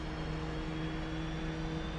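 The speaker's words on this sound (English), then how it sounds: "now the engine is starting up." Aircraft engine spooling up from off to idle in the DCS flight simulator, a continuous steady whine with a few tonal hums over a broad rushing noise, with no talk.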